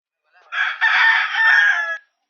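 A single loud fighting rooster crow in Malvar, Batangas, a sustained strained call lasting about a second and a half, close and clear against silence.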